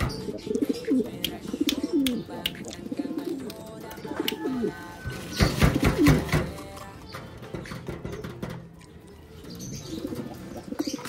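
Imported pet pigeons, one with damaged wing feathers, coo in soft repeated throaty phrases close by. A brief burst of wing flapping and scuffling rises in the middle before the cooing resumes faintly.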